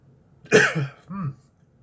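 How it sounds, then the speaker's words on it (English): A sharp cough followed by a softer second cough and throat clearing after a sip of Jameson whiskey, close and brief. "I always cough when I start drinking whiskeys."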